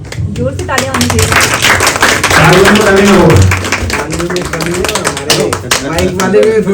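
An audience at a political gathering honouring Atal Bihari Vajpayee claps in a dense patter that rises and fades while someone speaks over it through an amplified microphone.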